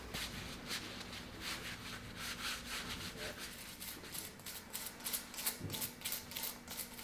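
A rag wiping old grease off outboard motor water pump parts, a close, continuous scrubbing and rubbing with short repeated strokes, fairly quiet and heard alone without speech.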